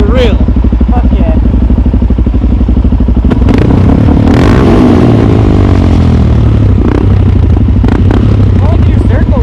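A motorcycle revs hard and loud in a parking lot during a wheelie practice session, its engine roaring close by with clattering and shifting pitch while people talk over it.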